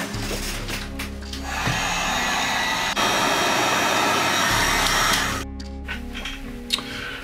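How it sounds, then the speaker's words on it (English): A heat gun blows close and loud over freshly conformal-coated electronics on a custom 5-inch freestyle drone build, a steady roaring whoosh that cuts off near the end, leaving quieter room sound. "I'm gonna hit them with the heat gun real quick, help them dry."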